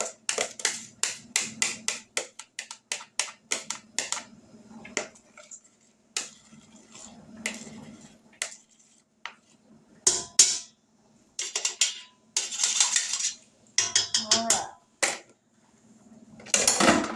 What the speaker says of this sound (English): Let me get a spoon out here where I can scrape this all out.